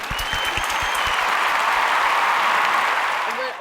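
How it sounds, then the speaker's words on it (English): Sustained applause from an audience, steady and dense for several seconds with a faint crowd murmur, the first second punctuated by a few louder individual claps. "Clap if you think she should unsubscribe."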